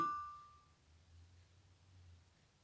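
A doorbell chimes once at home, a single faint ding that rings out briefly and fades, leaving a low steady hum in a quiet room.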